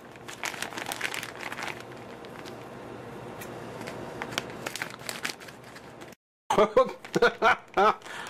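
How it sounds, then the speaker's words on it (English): Plastic sweet packet of jelly babies crinkles and rustles at close range, followed by a brief silence and then a few sharper scissor snips and crackles, with someone speaking. "take our scissors and open up our jelly babies"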